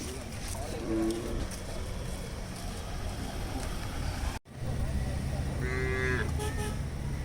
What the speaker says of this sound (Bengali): অনেক গরু চলে আসছে